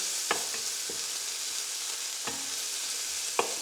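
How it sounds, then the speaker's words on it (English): Bacon sizzles steadily in a pan, a constant hiss broken by a few light clinks of stirring. "So we'll leave that frying up for about 5 minutes."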